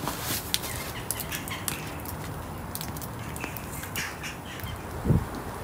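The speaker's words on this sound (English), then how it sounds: "huge flock of birds flying over." A huge flock of birds flies overhead outdoors in the Elland area, giving scattered squawks and calls over a steady wash of wind and ambient outdoor noise.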